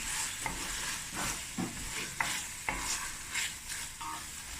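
A spoon stirs sugar beans stew with honey in a pot on an island stove, giving a series of soft scraping strokes and clinks over a gentle background sizzle, moderately quiet and without speech.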